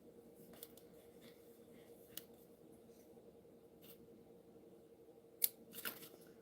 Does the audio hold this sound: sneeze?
no